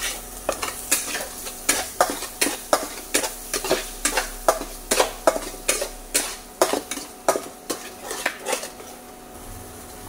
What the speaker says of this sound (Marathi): आणि हे चांगलं भाजून घेऊया।